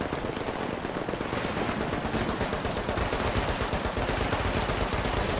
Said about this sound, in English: I shoot this bad guy.